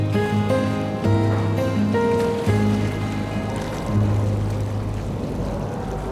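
Loud mix of churning water and engine drone from a ferry cruising near the Brooklyn Bridge toward Pier 11 in New York, with steady low tones rising and falling, no talk.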